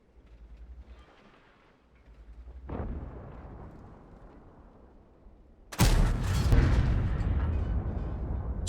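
Tank cannon shots in a tank video game: a dull boom, then a much louder blast a few seconds later followed by a sustained roaring rumble, heavy and close.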